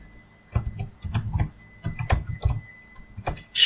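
Rapid bursts of keystrokes on a computer keyboard while JavaScript code is typed, uneven clusters of close, crisp clicks separated by short pauses.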